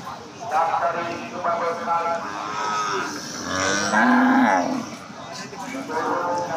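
Cattle moo repeatedly at a busy livestock market, several loud, drawn-out lowing calls close by, mixed with people talking in the background.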